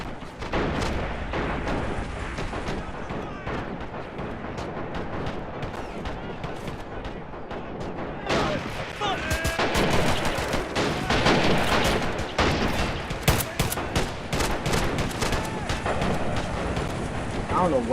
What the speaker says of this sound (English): We're going to start firing. Another shot from artillery from the U.S.